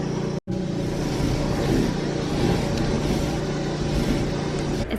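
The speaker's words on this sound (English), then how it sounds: "Pressure washing has commenced." A pressure washer runs continuously while cleaning the outside of a cottage, giving a loud, steady motor drone with a brief cut near the start and no talk.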